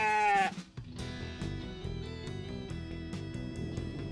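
A goat, the one wearing a camera on its neck on a snowy mountainside, gives a single short, wavering bleat at the start, followed by a steady tonal background.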